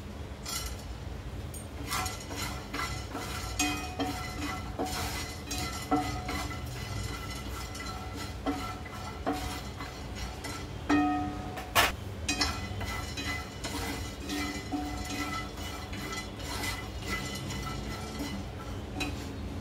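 Whole cinnamon, cloves, black pepper and garlic dry roasted in a pan for a raw mango pickle, with steady scraping and stirring and light clinks of a spoon against metal throughout.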